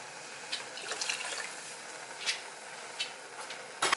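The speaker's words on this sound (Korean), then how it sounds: "그리고 떡을 한번 씻어내줄게요." Korean rice cakes for tteokguk are rinsed in water, a soft steady trickle and splash with a few light clinks and sloshes, close and faint.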